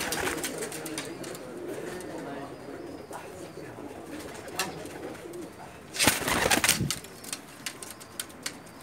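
Sialkoti pigeons cooing softly in a loft, low murmuring coos with occasional wing flaps and a louder burst near the end, under background voices.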